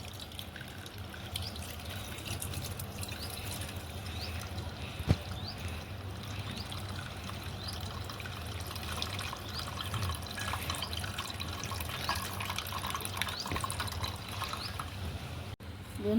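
Watermelon juice being strained, a steady soft trickle and dribble of liquid running continuously at close range, with a few faint clinks, and no talk over it.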